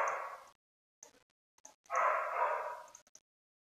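A Sheltie dog barks in a few bursts: a long bark at the start, several short yips in the middle and another sustained bark near the end, fairly close and clear with gaps of silence.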